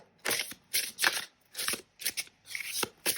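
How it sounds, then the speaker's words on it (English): Oracle cards are shuffled in about seven quick, crisp riffling bursts separated by short pauses, close and clear with no talking. "I'm just drawing an oracle card"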